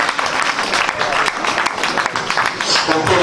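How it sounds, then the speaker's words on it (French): Audience applause at a political gathering in Paris, a dense wash of clapping that runs the whole stretch, with a voice speaking over it. "Merci bien, avec tous vos applaudissements"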